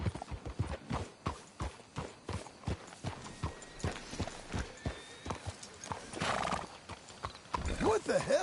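Horses in the Red Dead Redemption 2 video game, hooves clip-clopping in a steady walking rhythm close by, with a whinny and snorts, while people talk over them.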